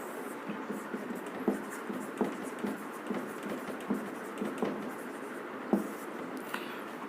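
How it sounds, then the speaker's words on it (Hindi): Marker or chalk writing on a classroom board, heard as soft, close scratchy strokes with faint taps in an irregular rhythm over a steady low room hiss, with no talk. "चलो यहाँ पर लिख लेते हैं"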